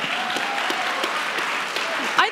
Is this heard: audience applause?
yes